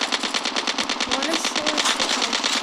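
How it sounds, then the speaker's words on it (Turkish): Rapid automatic gunfire from an enemy shooting at the player in a video game, a dense continuous burst of shots at close range, with a voice speaking over it. "Bana sıkıyor."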